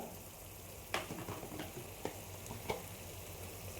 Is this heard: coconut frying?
yes